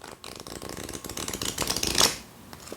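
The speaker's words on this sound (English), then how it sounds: "Let me show you a riffle shuffle. Again, not a full deck, but listen to this." Riffle shuffling of a partial Sion tarot deck: a quick rising patter of flicking cards that builds to a crisp, bright burst near the end, then settles, close up with no talking.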